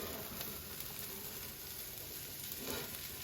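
Potatoes crisp in a hot pan beside chorizo and eggs kept warm, giving a steady, close sizzling hiss that holds evenly throughout with no talking.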